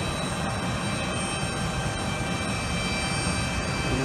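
A United airliner taxiing at an airport, heard as a steady, loud engine roar and rumble that holds even throughout without breaks or talk.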